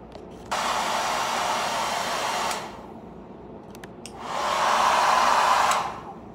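A hair dryer runs in two bursts, a steady roar for about two seconds, a short lull, then a louder second blast before it cuts off. No one speaks.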